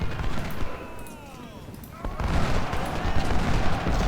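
Volleys of musket and rifle fire in the Civil War strategy game Ultimate General, Battle of Chickamauga: crackling bursts of gunshots and booms, loud and repeated, under someone talking.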